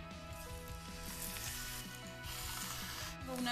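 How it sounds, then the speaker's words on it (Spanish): Potatoes fry in a home-kitchen pan with a soft, steady sizzle, faint and continuous, joined by light scraping and clinking of utensils. "Unas papas que se están friendo, también puede servirnos de guarnición."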